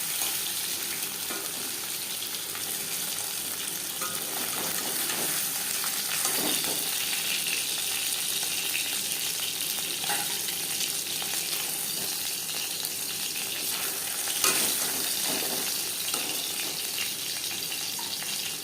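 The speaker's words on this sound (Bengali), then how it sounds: "মাছ আমি হালকা করে ভেজে নিলাম" Pieces of bhetki fish fry in oil with a continuous, close sizzle and crackle that holds steady for the whole stretch, punctuated by occasional spattering pops.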